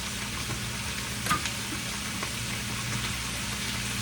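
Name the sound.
stirring coconut milk (gata) into cooking papaya dish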